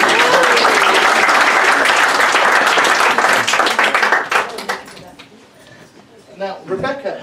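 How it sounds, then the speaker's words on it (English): A live stage-show audience claps loudly and densely, then the applause fades away and a voice speaks over the quieting room. "Hey, let's have another round of applause for our amazing coin masters."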